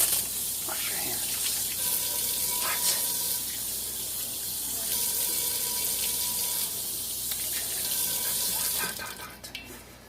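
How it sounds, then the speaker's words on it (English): Hands washed with soap under a running kitchen tap, a steady close stream of water splashing into the sink with rubbing and splashes, ending with a sharper burst of water. "Wash your hands."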